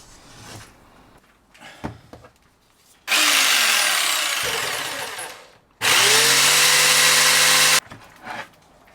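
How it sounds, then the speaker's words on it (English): Jigsaw cutting along a drawn line in a panel for a shower build in an LT35 camper van, two loud sustained bursts of a few seconds each with a pause between, preceded by quieter handling knocks. "Now, to get the jigsaw out and very carefully"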